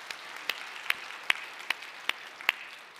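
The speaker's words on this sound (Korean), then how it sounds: "하나님께 영광의 박수 다시 한번" Sparse, rhythmic clapping from a congregation during a Sunday church worship service, six or seven sharp claps at an even beat over a soft diffuse room wash, moderately loud.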